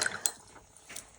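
A paintbrush is rinsed in a jar of water between watercolour ink strokes, giving a couple of soft, brief drips and splashes that are faint and close, with no talking.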